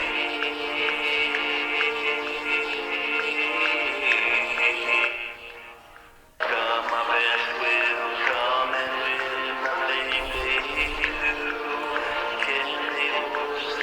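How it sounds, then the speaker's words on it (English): Playback of a recorded rock song mix with its click track, loud and continuous with full instrumentation, a brief drop-out in the middle before the music resumes, no talk. "And I included the entire mix, including the click track."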